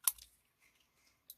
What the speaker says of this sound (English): I am going to cut it a little shorter following that line there.